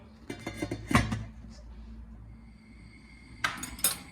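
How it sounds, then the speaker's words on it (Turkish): A few clattering metallic clinks of a lid set onto a cooking pot, then a quiet pause and another pair of sharper clanks near the end. "Tekrar tenceremin kapağını kapatıyorum"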